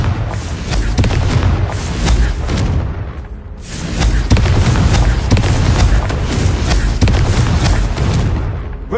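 Repeated Confringo fire-blast spell explosions in Hogwarts Legacy, loud booming bursts in quick succession with a brief lull near the middle, dense and continuous throughout.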